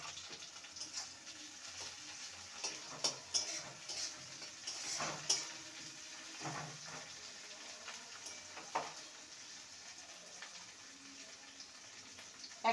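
Tomato goes into a pan of lightly browned onions, giving a faint sizzle under scattered clinks and scrapes of a spoon against the pan.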